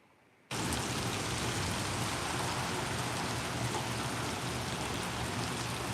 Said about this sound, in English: It's pouring rain here.